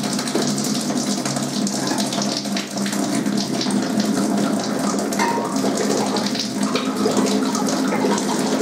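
Star San sanitizer draining into a bucket during home-brew wine bottling, a steady continuous gush of running liquid that stays loud throughout, with no talking.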